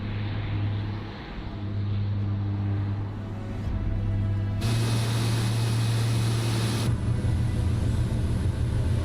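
A single-engine SWS PC-12 turboprop in Microsoft Flight Simulator flying past a flyby camera after takeoff, with a loud, steady engine drone and propeller hum that shifts in pitch and grows brighter as it passes.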